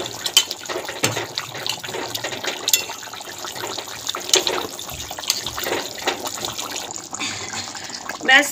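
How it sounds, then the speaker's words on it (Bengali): A pot of fish curry with potatoes bubbles on the stove, a busy wet simmering with irregular pops and gurgles throughout, close and moderately loud. "ব্যাস মাছের ঝোল ফুটতে শুরু করে দিয়েছি, ভালো করে হয়ে গেছে মাছের ঝোল।"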